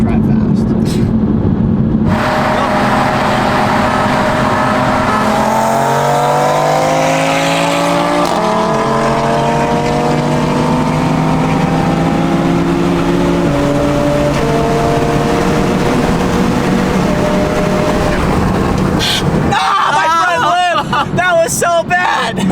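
A stock BMW M4 and a Stage 2 tuned Audi RS3 race, with loud, close engine revs climbing in pitch through repeated gear changes, followed by a brief burst of wind and tire noise at the end.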